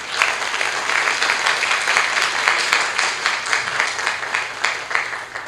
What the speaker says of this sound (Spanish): Unas fuertes palmas, por favor.